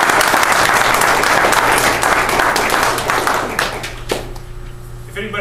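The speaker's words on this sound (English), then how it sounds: "I think we should all greet him with a good round of applause for his participation." Enthusiastic applause at a veterans town hall, many hands clapping loudly before tapering off, with a voice starting to speak as it fades.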